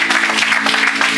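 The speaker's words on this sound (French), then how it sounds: "Quelqu'un acclame Jésus" A church congregation applauding during a worship service, a steady dense wash of clapping that holds at an even loudness throughout, close and full, with no clear talk over it.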